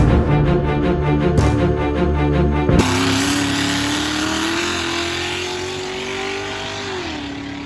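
Car doing a burnout at a drag strip, a loud sustained engine roar that climbs steadily in pitch as it revs, after a brief change in tone, then eases near the end.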